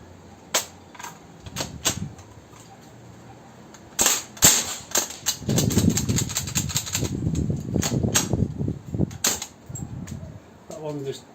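An Umarex M1A1 Thompson replica gun firing, a few sharp, scattered pops with a faulty, uneven action, spread among mechanical clicks and rattling handling noises, with a person talking in between.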